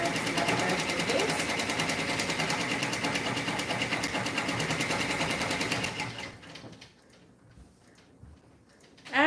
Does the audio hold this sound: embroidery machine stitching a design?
yes